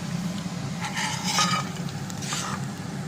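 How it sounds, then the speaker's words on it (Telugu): Almonds frying in ghee in a pan are stirred slowly, giving a steady low sizzle with soft scraping bursts of the spoon against the pan, close and continuous for about three seconds. "బాదం పప్పు అయితే మాడిపోకుండా కలుపుకుందామండి నిదానంగా"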